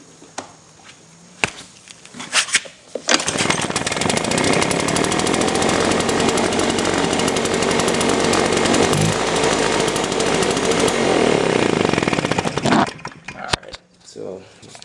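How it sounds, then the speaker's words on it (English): A 350 BT two-stroke engine cold starts after a few choke pulls, then roars loud and steady at high revs for about nine seconds before cutting out, with brief clatter around it. "Alright, now for the 350 BT choke and priming."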